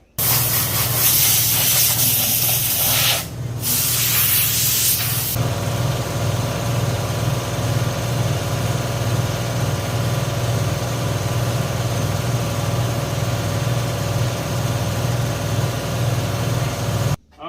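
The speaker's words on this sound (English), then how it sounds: "now that my air compressor has finally shut up" A nearby air compressor runs steadily with a low pulsing chug, and a loud hiss of blown air sits on top of it for the first few seconds before cutting off, leaving the motor droning alone.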